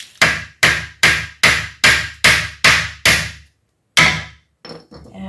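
Hammer strikes driving waxed nails into wood during a kitchen renovation, eight evenly spaced sharp blows in a steady rhythm, a pause, one more hit, then softer tapping, close and loud.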